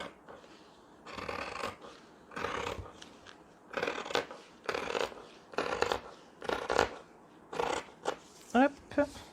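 Scissors snipping through fabric along a traced line for a beginner's sewing project, a steady series of close, crisp cutting strokes roughly one per second, with a little quiet talk in between.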